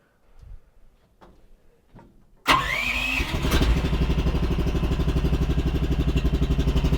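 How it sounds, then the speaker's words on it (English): A Chinese mini excavator's engine cranks and catches on a cold autumn morning, then settles into a loud, steady, rhythmic diesel idle close by after a brief quiet start with faint background sounds. "We're gonna get this thing started up and warming up because it's a cold autumn morning here."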